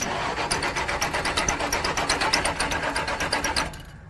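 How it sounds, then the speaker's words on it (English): A rebuilt engine in a 1973 Plymouth Fury cranks over in a fast, even rhythmic chug for several seconds, loud and close, then catches briefly and cuts off abruptly at the end. "Starting the car up for the first time, this is a big moment right here."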